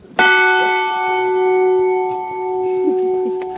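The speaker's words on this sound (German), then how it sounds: "Die vom Dalai Lama persönlich gestiftete Freiheitsglocke vor dem Tibet-Zentrum läutet für die 15 Teilnehmerinnen und Teilnehmer den nächsten Teil des Meditationsseminars ein." Freedom bell donated by the Dalai Lama outside the Tibet Centre in Knappenberg, Hüttenberg, Carinthia, struck once, loud and close, its clear tone ringing on and slowly fading in the open air.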